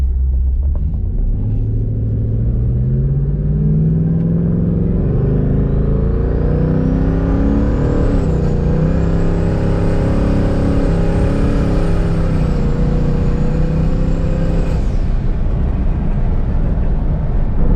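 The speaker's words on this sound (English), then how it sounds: "Man, you can hear the turbos a lot more with this setup." A loud twin-turbo car engine rumbles and revs up steadily, with a rising whistle building over the roar before the acceleration eases off.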